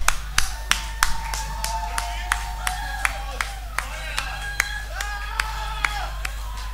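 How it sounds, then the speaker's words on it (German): An audience at a German stage show claps in a loose, uneven patter of distinct hand claps over several seconds, with voices and murmuring mixed in underneath. "Applaus!"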